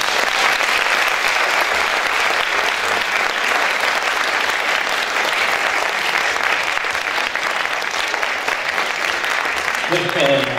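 A theatre audience at an Azerbaijani stage production applauds, a dense, steady wash of many hands clapping continuously for about ten seconds, loud and close, with a voice starting at the very end.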